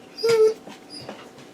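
A puppy whimpers close by for attention with one short, high whine, then quieter soft snuffles and small whimpers in an otherwise calm indoor room.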